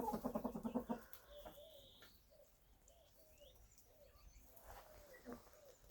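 Hens cluck in a yard on a March evening in a short, irregular series of soft calls over steady outdoor background noise, with a denser burst of clucking at the start.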